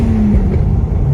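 JDM Toyota JZX street car with a 520 hp engine on a test drive, a loud steady engine drone with a low tone that drops and shifts, heard close from inside the car with no talk.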